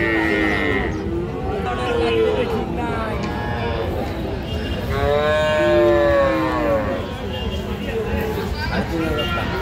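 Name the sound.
bull calf mooing at a cattle market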